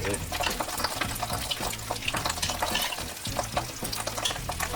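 Eggs fry with shrimp in a hot pan, a dense continuous sizzle and crackle with stirring scrapes, loud and close, with no talk.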